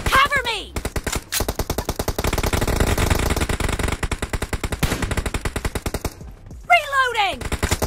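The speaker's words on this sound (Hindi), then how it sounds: "जैसी मैं प्लेयर को गोली मार रहा हूँ ना, तुरंत मेरे को साउंड सुनाई दे रहा है" Rapid automatic gunfire from players shooting in the PUBG battle royale game, dense rhythmic bursts of shots near and loud, with brief pauses and a few sharp single cracks, no talk over it.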